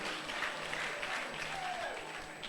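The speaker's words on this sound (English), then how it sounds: "Clap hands for yourself." Congregation clapping hands together during a church sermon, a moderate continuous patter of applause heard at some distance, with a voice faintly present beneath it.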